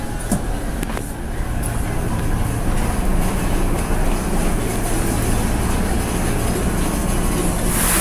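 Soekarno-Hatta airport train rumbling steadily nearby at a station, a continuous loud rail and engine drone with a few faint clicks early on and no talking.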